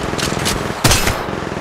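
Gunfire in Apex Legends Mobile, a short run of quick shots followed by one louder, heavier blast, all close and dense.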